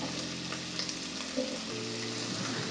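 Onion and garlic sautéing in a pan, a steady close sizzle with soft stirring strokes, no voices over it.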